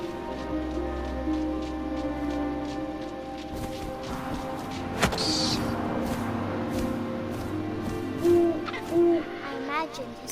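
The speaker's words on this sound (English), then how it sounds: "And suddenly, I was an owl." Owl hooting in the video game What Remains of Edith Finch, two short low hoots late in the sequence over steady wind and a soft ambient game soundscape.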